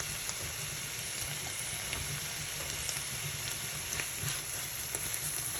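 Pancetta fries in a pan for spaghetti over slow heat, giving a faint, steady, crackling sizzle with scattered small pops throughout.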